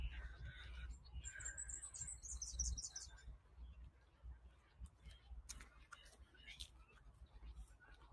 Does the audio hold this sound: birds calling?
yes